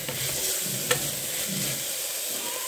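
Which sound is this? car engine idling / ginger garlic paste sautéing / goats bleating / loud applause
ginger garlic paste sautéing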